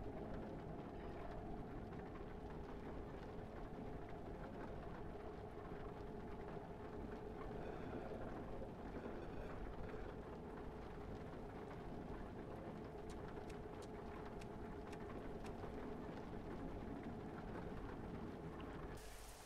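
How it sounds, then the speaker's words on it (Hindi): Steady, dense rain hiss from the PC Building Simulator video game, a continuous broadband wash that runs unbroken throughout and holds at a constant loud level with no voices over it. "अरे बाप रे बारिश हो गई है।"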